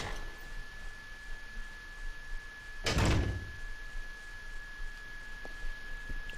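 Door in Resident Evil 0's training facility, a single low heavy thunk of it opening midway, set against a quiet hum with a faint steady tone and background noise.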